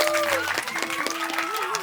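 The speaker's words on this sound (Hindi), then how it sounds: "सब लोग तालियां बजा के" Audience applause at a Hindi-language gathering, a short burst of dense clapping heard beneath a speaking voice with a sustained tonal line running through it.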